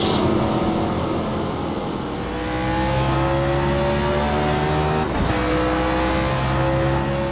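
Racing car engine in the modded video game Assetto Corsa, loud and close, revving up through rising gear pitches with a brief gear shift and steady acceleration.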